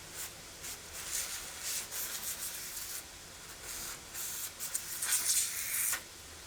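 A waterjet cutting nozzle sprays water with no pressure, a faint, soft hiss and spatter that rises and falls unevenly for several seconds, with no talking.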